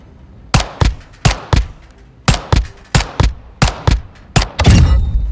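Full-auto assault rifle fire in Modern Warfare 2: several short sharp bursts of rapid shots, loud and close, separated by brief pauses, ending in a denser rattling burst.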